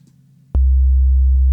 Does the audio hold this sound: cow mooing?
no